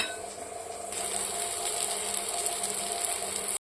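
A fork or whisk beats egg with a pinch of salt in a bowl, giving a steady fast clatter of rapid metallic ticks that runs continuously and close with no talking.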